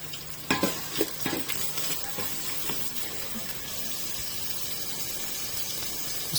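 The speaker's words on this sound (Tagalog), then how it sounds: "Igisa lang natin." Shrimp and tomato sautéing in a hot pan for tiger shrimp sinigang, a steady close sizzle with a few sharp scraping stirs early on, no talking.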